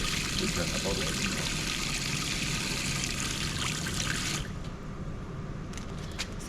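Water pours from an outdoor tap on a Trooper camper in a steady close rush that cuts off sharply partway through, leaving quieter outdoor background with a few small knocks and clicks.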